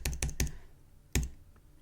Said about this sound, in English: I'm going to hold down Shift on my keyboard and use the arrow key to shift to the right.